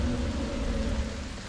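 Rain and thunderstorm sound effects from the Syrinscape tabletop audio app, a steady dense wash of rainfall with low rumbling underneath, continuous and fairly loud with no talk.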